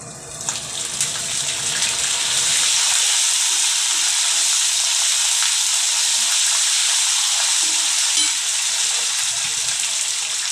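Chana dal and curry leaves frying in hot oil for a pickle, giving a loud, steady, close sizzle that swells slightly after the first few seconds and holds unbroken to the end.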